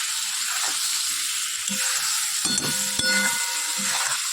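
Spices, chilli powder, cumin powder and sauce being sautéed and stirred in a pan, a steady soft sizzle running throughout with a few scraping stirs near the middle.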